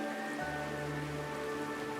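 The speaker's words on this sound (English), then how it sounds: "This is the sound of rain." Rain falls in the Penacony setting of the game Honkai Star Rail, a soft, steady patter over a sustained tonal musical bed, faint and continuous throughout.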